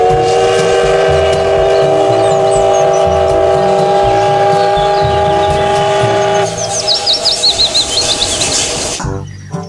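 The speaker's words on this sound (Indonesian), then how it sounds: "Yang ini ada kereta Thomas." Toy Thomas train running with a steady mechanical whir and tonal electronic sound effects, a warbling squeal-like sequence near the end before it cuts off; close and loud, no talking.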